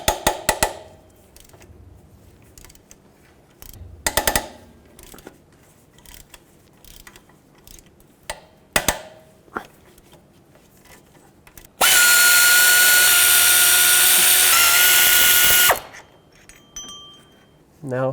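An impact tool breaks free 14mm bolts on the power steering pump of a 2001-07 Toyota Sequoia, with scattered clinks of tools and metal, then a loud, steady burst of whirring lasting several seconds before stopping abruptly.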